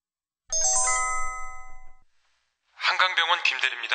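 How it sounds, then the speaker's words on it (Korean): A mobile phone ringtone plays as a sound effect in a Korean radio drama reading, a melodic chime of sustained tones lasting about a second and a half, followed after a short pause by a voice speaking. "벨소리는 길게 이어졌고"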